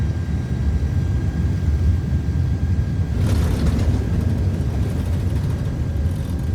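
Airbus A330 jet engines spooling up for takeoff in Microsoft Flight Simulator 2024, a steady loud low rumble that swells with added roar and hiss partway through, continuous with no talk.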